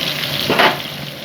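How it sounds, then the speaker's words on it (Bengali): Magur catfish fry in oil in a pan over low gas heat, a close, steady sizzle with a brief swell of crackling midway. "এইভাবে মাছগুলো ভাজা হচ্ছে।"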